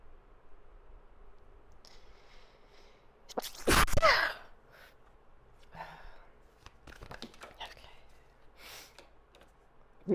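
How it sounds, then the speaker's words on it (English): A single loud, close sneeze blasts straight into a microphone, sharp and distorted, in the middle of a quiet stretch with small clicks and rustles around it. "I think I sneezed right in my mic."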